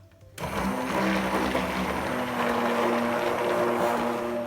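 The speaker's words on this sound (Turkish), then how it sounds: "blender ile dondurmamı 5 dakika çırpacağım" A blender motor starts abruptly and runs loud and steady with a constant whirring hum while whipping cocoa ice cream.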